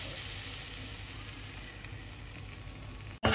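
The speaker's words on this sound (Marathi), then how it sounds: "मी या पॅन मध्ये बटर टाकलं आहे आणि आता आपल्याला मैदा टाकायचा आहे आणि त्याला छान फ्राय होऊन द्यायचं आहे" Flour frying in melted butter in a pan gives a steady, soft sizzle that holds evenly, ending in a brief clatter.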